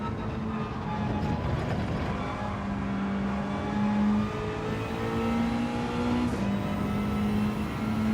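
A racing car engine in the Gran Turismo 7 video game, on worn soft tyres, drones steadily at moderate level with pitch shifts as gears change.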